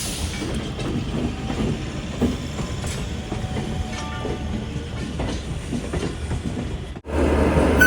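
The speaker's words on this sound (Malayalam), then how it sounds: "ഡൽഹിയിലെ ലോക്കൽ ട്രെയിൻ" A Delhi local train rolls past close by, a continuous loud rumble with rhythmic clickety-clack of wheels over rail joints, dipping briefly near the end before surging again.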